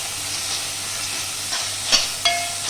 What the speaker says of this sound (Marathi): आलं लसूण पेस्ट, चिरलेल्या मिरच्या, हे सर्व साहित्य घालून 2 मिनिटं परतवायचे.